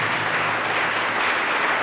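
An audience in a lecture hall claps together in dense, sustained applause, loud and close for the whole brief stretch.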